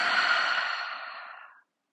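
A single long breath is exhaled through the mouth during a yoga session, a soft airy rush that starts strong and fades steadily over about a second and a half before cutting to silence.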